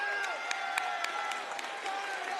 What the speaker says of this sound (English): And you can hear the appreciation from the crowd here.